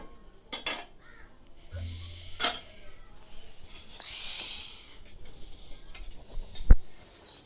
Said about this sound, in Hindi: अब हम साथ के साथ ऑयल गर्म करने रखते हैं।